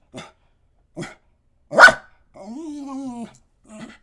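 A dog barks indoors in a handful of separate barks, sharp and fairly close, with one louder bark and a drawn-out whining growl between them.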